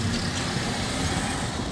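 A Porsche passing on the street, a steady low engine rumble and broad road noise, fairly close and continuous throughout.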